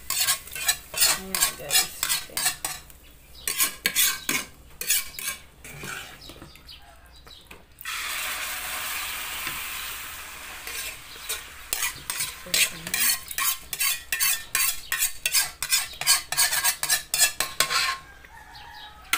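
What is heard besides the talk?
stirring sautéed garlic and shallot into mung bean stew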